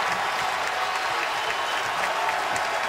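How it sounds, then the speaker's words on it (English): A college basketball crowd at a Duke vs. Wake Forest game cheers and applauds after a fast-break finish, a loud, continuous roar of clapping and shouting that fills the arena. "And that lights up the crowd."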